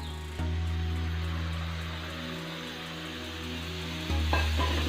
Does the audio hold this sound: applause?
no